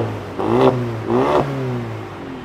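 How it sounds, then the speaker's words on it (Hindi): A Mercedes-AMG A35 fitted with an Akrapovic exhaust revs twice in quick succession, each loud rise and fall close by, then settles back to a steady idle. "सो गाइस आप देख सकते हो अक्रापोविच के एग्जॉस्ट है. आओ थोड़ा सा आवाज दिखाना"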